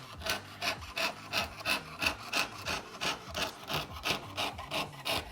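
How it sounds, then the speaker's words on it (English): A small jeweler's saw cuts a metal disk with steady, rhythmic back-and-forth rasping strokes, about a dozen even strokes, close and moderately loud, with no voices. "The jeweler's saw is sort of like a very small coping saw, if you're familiar with that from woodworking."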